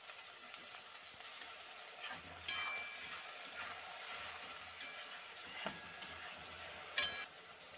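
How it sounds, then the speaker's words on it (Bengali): Spice paste with turmeric being sautéed in a pan for a loitta fish curry, a faint, steady sizzle broken by a few scraping stirs and light clatters. "তো মশলাটা কিন্তু বেশ কিছুক্ষণ ধরে কষাবো, যাতে মশলা থেকে কাঁচা গন্ধটা চলে যায়।"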